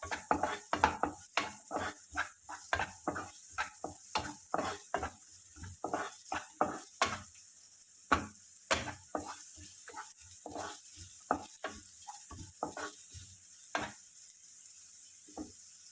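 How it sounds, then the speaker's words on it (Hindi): Onions with ghee being stirred in a pan as they soften, steady sizzle under repeated clinks and scrapes of a utensil against metal, close and fairly quiet, no one speaking. "ओनियंस को भी हमें ज़्यादा कुक नहीं करना है, सिर्फ सॉफ्ट करना है"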